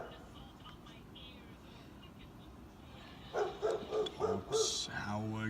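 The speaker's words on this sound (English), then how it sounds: "Dogs howling." Dogs howl and bark outdoors on a cold, clear night, a few drawn-out wavering cries rising after a quiet stretch, fairly distant, with a faint voice also present.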